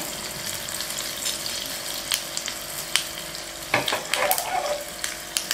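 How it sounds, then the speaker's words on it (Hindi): Curry leaves and black sesame seeds sizzling in hot oil for a rava dhokla tempering, a steady close crackle with sharp pops and a louder burst of spluttering partway through. "करी पत्ता थोड़ा तोड़ के डालना है कि सुगंध अच्छी आती है और मैंने काले तिल लिए हैं"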